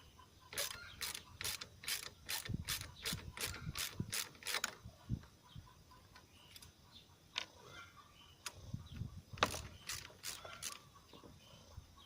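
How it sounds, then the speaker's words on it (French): Ratchet wrench loosening 7 mm screws from a car's radiator fan support, with quick bursts of sharp metallic clicks in rapid rhythmic runs, pauses and scattered single clicks between, close up. "une clé à cliquer, une clé plate, n'importe."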